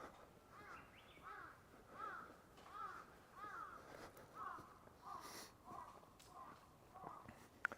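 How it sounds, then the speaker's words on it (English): Crows caw repeatedly at sunset in Osaka during a spring walk, a steady run of distant-to-moderate calls over quiet outdoor ambience, fairly faint overall. "The crows are going crazy right now."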